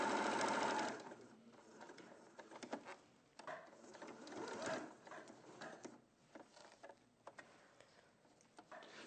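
A domestic sewing machine stitching fabric runs in a fast, steady mechanical whir with ticking needle patter, close but fairly quiet, speeding and slowing slightly, with no speech over it.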